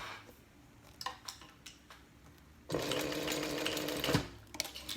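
A sewing machine stitches a thick vinyl wristlet strap. A few scattered clicks and taps come first, then a loud, steady motor whir with rapid stitching runs close by for a second and a half before easing off.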